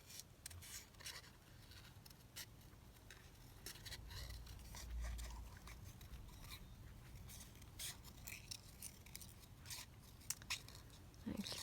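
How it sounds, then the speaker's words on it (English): Scissors snipping leaf shapes from paper in a papercraft workshop, a series of quiet, close crisp cuts and rustles at an irregular pace, with no talking. "Right, I'm going to cut those leaves off."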